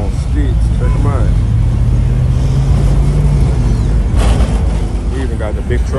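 Loud traffic noise along a city boulevard during a Labor Day cruise, engines rumbling and droning continuously up close, with a passing vehicle swelling briefly near the end and voices talking over it.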